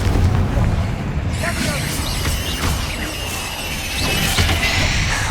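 Booming spell blasts from the Confringo curse in the video game Hogwarts Legacy rumble loudly with crackling bursts and whooshes, layered over busy combat noise and mixed with character voices shouting.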